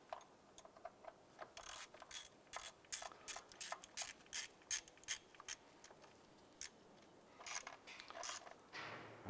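A hand ratchet clicks in quick bursts while tightening a bolt on a 2011-2019 Ford Fiesta during knock sensor replacement, sharp close ratcheting strokes with short pauses between runs and no talking.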